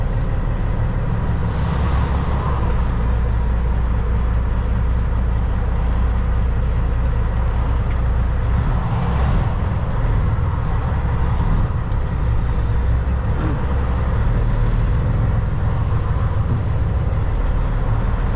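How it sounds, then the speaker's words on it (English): A Kenworth W900 semi truck engine, driven without a working clutch, drones loudly and continuously, with a deep rumble and rising and falling revving throughout. "Trying to get the truck somewhere without a clutch."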